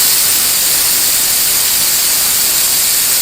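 An air compressor hisses steadily as it releases air, a loud continuous broadband rush lasting the whole moment, with no voices over it.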